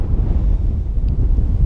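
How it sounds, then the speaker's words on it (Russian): Wind buffets the microphone on a riverbank during a spring spinning-rod fishing trip, a loud, low, continuous rumble with no voices. "Ветер только не кайф."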